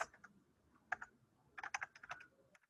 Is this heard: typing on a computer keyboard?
yes